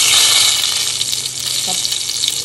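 Whole spices and a bay leaf sizzling in hot mustard oil in a pan, a steady bright crackling hiss, close and fairly loud, fading slightly after the first moment.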